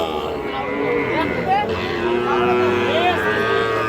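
Sahiwal cattle moo several times close by, long drawn-out lowing calls overlapping one another against a busy market background.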